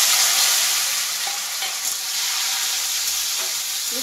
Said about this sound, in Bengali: বিলাতিটা একটু ভাজবো,